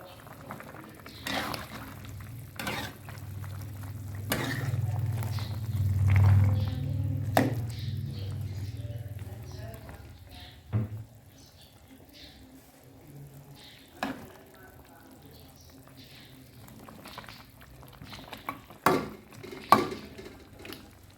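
Eggplant and smoked fish stir-fry, with soy sauce just added, is stirred in a pan: a spatula scrapes and taps repeatedly against the metal over a soft simmering bubble, with occasional louder clinks.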